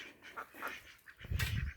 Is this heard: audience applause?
no